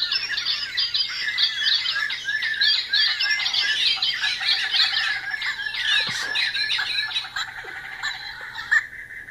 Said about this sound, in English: Bluetooth low energy beacons activating small plush noise making birds.